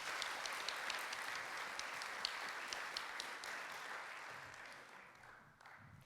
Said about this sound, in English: A round of applause to Rohan Samarajiva, please.